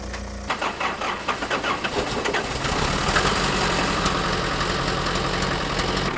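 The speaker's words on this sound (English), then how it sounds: "The truck is up and running." An old truck engine cranks with rapid rhythmic chugs, catches and settles into a loud, rough, steady idle close by, with no talking.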